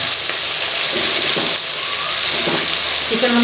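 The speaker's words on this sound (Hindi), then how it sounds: "चिकन शामिल करके हम इसे तकरीबन 2 से 3 मिनट तक फ्राई करेंगे" Chicken pieces fry in hot oil in a pan for a chicken macaroni dish, giving a loud, steady, close sizzle with faint stirring scrapes and no break in the hiss.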